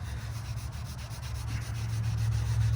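Finish being rubbed by hand into freshly sanded cedar wood on a carved bread bowl, a steady close soft scrubbing rasp with a low hum underneath, lasting a few seconds without speech.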